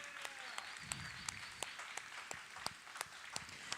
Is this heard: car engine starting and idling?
no